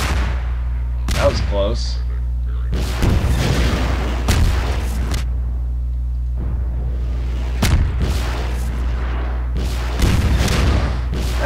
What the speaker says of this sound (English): Isn't there supposed to be something that shoots rockets at me?